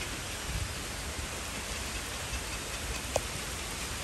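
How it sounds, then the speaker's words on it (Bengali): Rain falls steadily at the Bangladesh National Zoo, a continuous even hiss with one brief sharp tap near the end and no voices. "বৃষ্টিতে পড়ে গেছি"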